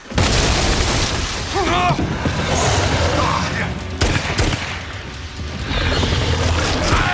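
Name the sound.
explosion in a video game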